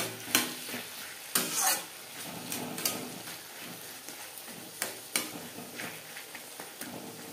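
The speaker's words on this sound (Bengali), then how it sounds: "তেলের সাথে বেগুন বেশ ভালো করে মিক্স করে দেব" Brinjal pieces are tossed in oil in a pan for a Bengali fish-oil curry, producing a quiet sizzle punctuated by irregular sharp spoon scrapes and knocks against the metal, fairly close and without voices.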